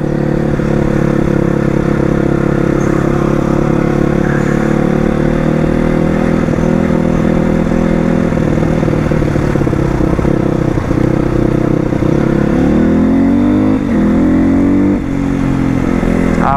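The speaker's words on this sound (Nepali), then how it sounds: "आवाज चाहिँ मिठो आइरहेको छ मेरो बाइकको जस्तो आवाज छ" A Crossfire motorcycle engine runs steadily and loudly throughout, a continuous rumbling drone with a brief shift in pitch near the end, no voices.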